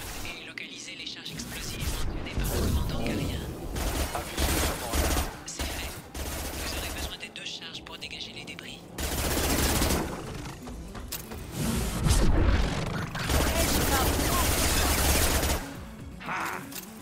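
Rapid gunfire in Mass Effect Legendary Edition, with repeated bursts of loud automatic shots and fusillades close up, running throughout with game effects in between and a voice talking under it.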